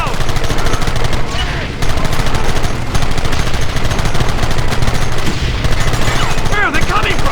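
Dense, rapid gunfire from a shootout in the remastered Red Dead Redemption video game, with sustained overlapping bursts of shots that keep going loud and nearly unbroken for the whole stretch.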